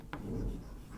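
Chalk or marker scratches briefly across a classroom board while fractions are being taught, a short quiet stroke over a low room hum.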